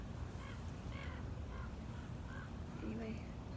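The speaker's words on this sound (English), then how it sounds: "the crows are cawing" Several crows caw in a series of harsh calls from a moderate distance outdoors, set against a constant low rumble of background noise.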